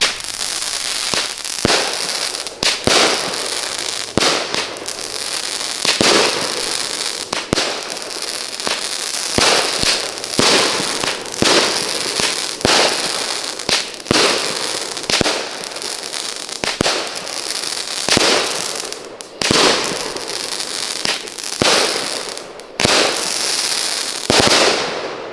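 A 19 shot Princess Warrior fireworks cake at a Fourth of July backyard show fires a rapid run of loud, close bangs and crackles, roughly one shot a second, with brief gaps between bursts.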